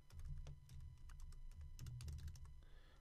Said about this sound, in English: So you just need to type something like